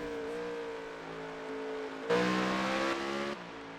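Next Gen Cup Series race car in a racing video game at Watkins Glen, engine droning at steady pit-road speed, briefly swelling louder mid-way before settling back.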